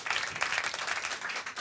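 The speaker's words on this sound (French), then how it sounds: "on les applaudit bien fort" An audience claps warmly for a duo about to perform on stage, a dense, steady burst of applause that stays even and fairly close for its short span.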